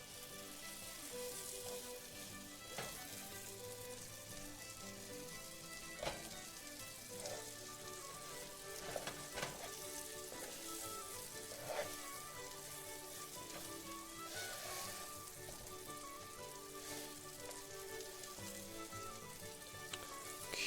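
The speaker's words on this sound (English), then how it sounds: "Ended up having like a pretty perfect amount of oil and butter in there." A batch of shepherd's pie filling fries in oil and butter, a steady close sizzle with scattered pops and crackles and occasional stirring knocks, with nobody speaking.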